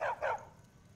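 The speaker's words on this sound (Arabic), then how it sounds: "الكلب تبعي فيني اني اتركه هون؟" A dog companion in the video game Skyrim barks twice in quick succession, short and sharp, then falls quiet; fairly faint overall.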